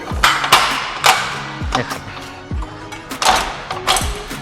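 A Little Giant Leveler ladder being adjusted down one step gives a series of sharp metallic clacks and knocks at irregular intervals. They are close and fairly loud.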